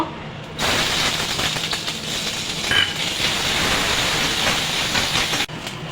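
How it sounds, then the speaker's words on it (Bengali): Ginger frying in a little hot oil in a kadai while mutton biryani is being cooked, giving a loud, steady sizzling hiss that runs nearly the whole time with no talking. "আমি আদাটা ভেজে নেব"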